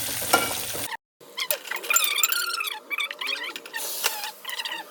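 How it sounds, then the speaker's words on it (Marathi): Spices for a tempering for turmeric dal hit hot oil in a pan and sizzle loudly and close up, with bursts of crackling and spattering that follow a brief silence and carry on without talk. "त्याची डाळ उकळून घेतली मस्त मी आता फोडणी देऊया बघा आपण पटापट फोडणी देते"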